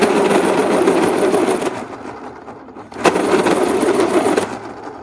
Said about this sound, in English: So I'm going to be using my sharpener to